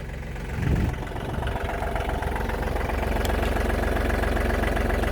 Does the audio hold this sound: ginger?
no